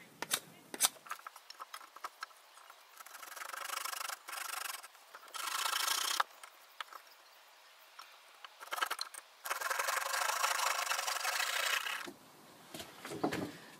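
A knife carving a wooden spindle for a bow drill, giving bursts of dry scraping and rasping shaves in several long strokes separated by short pauses, close and with no voices.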